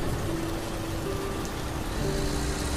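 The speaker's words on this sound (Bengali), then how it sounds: "ট্রাক আরো কিছুটা যেতেই আরো জোরে বৃষ্টি শুরু হলো।" Heavy rain pours steadily in a cartoon scene, a dense, constant hiss of falling drops that stays loud and even throughout with no voices.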